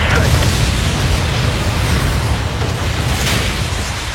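A spaceship blowing apart in the video game Spore, heard as a sustained, loud, rumbling burst of explosion noise lasting several seconds with no speech.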